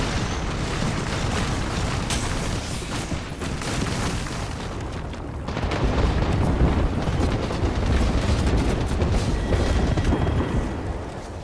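Grenade explosions in the Apex Legends video game, a dense sustained rumble of booms and bursts that swells louder in the second half, with no clear speech.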